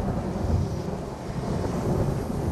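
Continuous low rumble of a thunderstorm with a rainy wash from Black Ops 2's Tranzit mode, steady and fairly loud, no one speaking.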